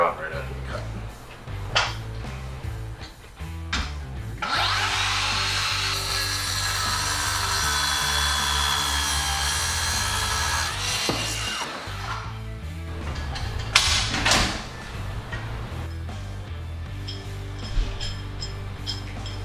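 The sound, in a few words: Diablo Cermet II metal blade circular saw cutting threaded rod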